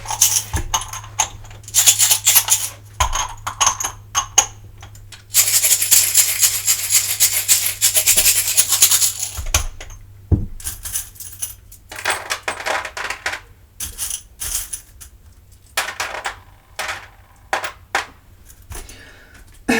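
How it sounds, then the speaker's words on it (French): Small charms jangle and clatter as they are shaken, coming in bursts of bright metallic rattling with short pauses and a long, dense stretch of jingling in the middle, close and fairly loud, with no one speaking. "on va faire quelques petites breloques"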